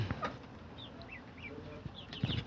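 Chickens cluck softly nearby, homegrown birds, with short chirpy calls scattered over a low background hum and a couple of louder bumps.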